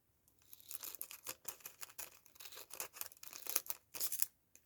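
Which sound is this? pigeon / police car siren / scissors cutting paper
scissors cutting paper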